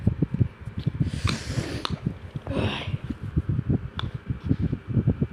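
An electric fan blows straight into the microphone, making rapid buffeting thumps and rumbles with gusty bursts of breathy hiss, steady and close throughout.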